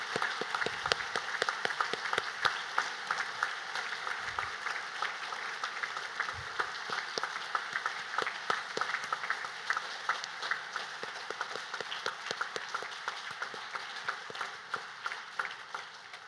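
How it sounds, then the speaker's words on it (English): School audience at a Veterans Day program giving honored veterans a sustained round of applause, many hands clapping steadily in a large room, gradually thinning toward the end. "Let us show our appreciation to these veterans with a round of applause."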